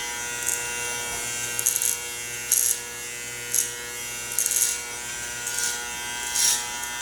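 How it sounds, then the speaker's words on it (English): An electric hair clipper hums steadily at close range while cutting a brushed-back barber style, its tone roughening in short bursts each time the blades bite into hair, with no voices. "Kind of just like stand that clipper up like that more."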